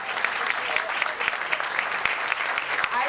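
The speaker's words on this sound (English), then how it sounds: "Let's give him a big round of applause." Scattered, moderately sized applause at a campus ceremony with distinct individual claps, steady throughout and heard at a slight distance.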